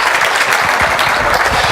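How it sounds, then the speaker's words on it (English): An audience claps for a presenter at a FOSDEM 2014 conference talk on making music with an Arduino, steady dense applause filling the room throughout without pause. "Let's applaud Stephen Goodwin, aka Marquis de Gouic."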